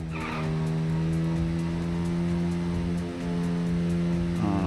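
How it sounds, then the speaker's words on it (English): A race car engine in the video game Little Racers: Street drones steadily at high revs with a strained, buzzing tone, and tires squeal briefly near the start and end. "My car, just that motor sound, man. It's trying as hard as it can."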